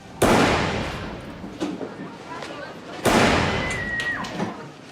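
Gunshots ring out in a courtroom trial scene from the TV legal drama The Good Wife: two sharp, loud bangs about three seconds apart, each trailing into a noisy wash, with voices underneath.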